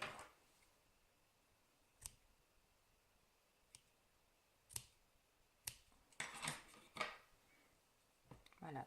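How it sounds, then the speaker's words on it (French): Scissors snip through strands of yarn while making a chevron and granny-square scarf, a series of crisp, close clicks spaced irregularly apart, including a brief cluster of quick cuts, in an otherwise quiet room. "Je coupe ici, je sépare mes fils, donc je coupe."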